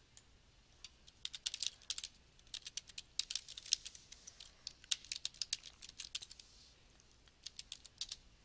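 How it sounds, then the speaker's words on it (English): Rapid bursts of computer keyboard typing, clicking keys in uneven clusters with short pauses, close and fairly quiet against a low hum. "I'm going to type in my information"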